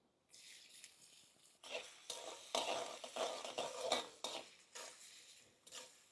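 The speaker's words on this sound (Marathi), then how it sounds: "दोन मिनिटं परतून घेऊ व्यवस्थित आपण कांदा" Finely chopped onion sautéing in oil with whole spices (cinnamon, black pepper, cloves, bay leaf and cumin) in a pan, a soft sizzle broken by repeated scraping and clinking strokes of a stirring spoon.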